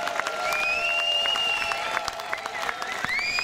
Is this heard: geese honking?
no